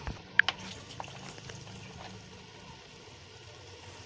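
Beef gosht fries in oil in a cooking pot with a soft, steady bubbling and crackle, preceded by a couple of brief clinks near the start; fairly faint and close, with no talking.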